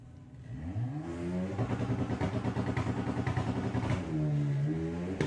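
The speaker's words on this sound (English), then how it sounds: "Graham Fairhead lifted those front wheels up beautifully there on the launch for the Misfit Type 3" A Volkswagen Type 3 drag car launching off the start line at a VW drag racing event, its engine revving hard and rising in pitch, loud and close, with a brief lift and then a second climbing run.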